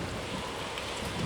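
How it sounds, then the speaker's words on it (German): Steady, even wind blowing across an open outdoor setting in the video game Tomb Raider (2013), a dense broadband rush with no breaks or gusting peaks, heard alone without voices. "Ja gut, es ist windig."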